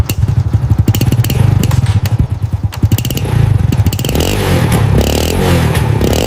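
A small vintage moped engine runs loudly and close after a cold start, chugging with rhythmic pulses and occasional revving, steady throughout.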